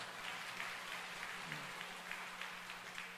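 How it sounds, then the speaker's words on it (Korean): A crowd claps steadily throughout, a soft, distant patter of many hands without pause. "박수를 크게 쳐주세요."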